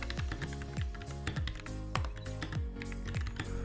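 Quick clicking keystrokes come from a keyboard connected to a smartphone, tapped in a steady run over quiet background music with no voices.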